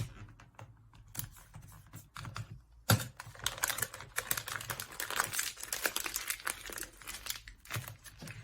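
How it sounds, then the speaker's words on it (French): Sticky tape crackles and rips as it is pulled from the roll, a long, rough tearing sound following softer rustling of paper. "On va mettre un petit bout de scotch."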